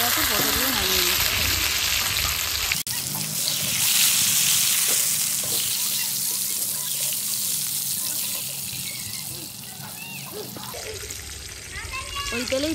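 Pointed gourd (potol) frying in oil and being stirred a couple of times after salt goes in, a steady broadband sizzle with scraping stirs, brief abrupt cuts at the start and end.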